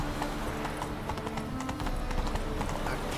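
Horse hooves clip-clop in a steady trotting rhythm in The Witcher 3: Wild Hunt, moderately quiet over a soft ambient game background.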